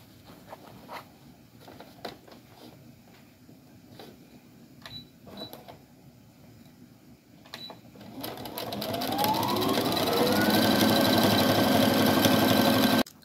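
A sewing machine stitches the seams of a reversible drawstring bag, starting with a few clicks and handling noises, then running as a steady fast motor whir for about five seconds before stopping abruptly.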